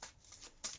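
Tarot cards shuffled close by, a soft papery riffle in two or three quick swishes over less than a second.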